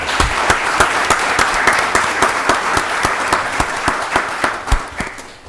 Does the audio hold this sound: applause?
yes